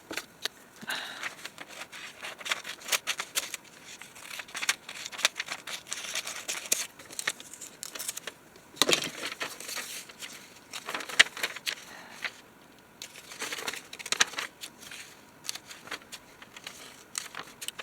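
Scissors snip and rustle through pages of a 1950s magazine as pictures are cut out, giving close, irregular crisp cuts and paper crinkles over about eighteen seconds with no talking.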